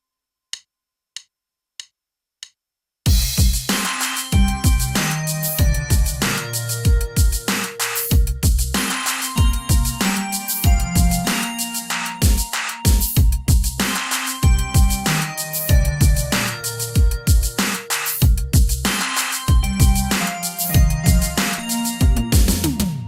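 A high bell and a low bell sound together in a music production session, after four sparse ticks; a bright, repeating rhythmic pattern of layered bell tones then runs loud and steady.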